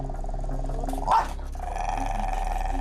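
A feral, wild-born dog growls aggressively at close range, a sustained low rumbling snarl with a brief sharper burst partway through.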